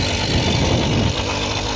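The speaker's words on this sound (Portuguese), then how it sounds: "vou ter que começar a ativar a mini moto, eu acho" A mini motorbike engine idles with a steady, close rumble throughout, with no clear start-up burst.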